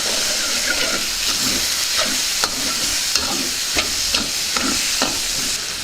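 Garam masala and chilli powder are stirred into a sizzling green pea paneer curry, with a steady frying hiss and a regular scrape of the spoon roughly every half second.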